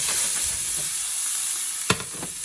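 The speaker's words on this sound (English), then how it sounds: "I'll put the onions in that. Obviously that's a hot pan." Onions hit a hot pan and sizzle in a loud, hissing wash, close up, with a sharp clack from a utensil near the end and no voices.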